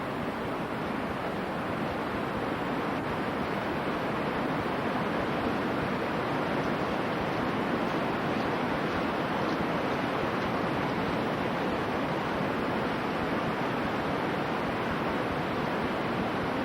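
Steady, dense roar of falling water from the American Falls at Niagara in winter, mostly frozen almost to the top, heard from across the river as a continuous broadband rush with no talking.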